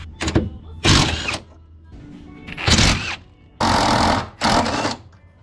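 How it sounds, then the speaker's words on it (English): Four bolts on a car subframe, a Nissan 240SX, are loosened with a power tool: several short, loud whirring bursts separated by pauses, up close. "now we'll just start loosening all four bolts and then lower the jack down"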